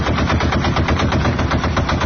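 A machine gun fires incendiary tracer rounds in one continuous rapid burst, a dense even stream of loud shots with no pauses.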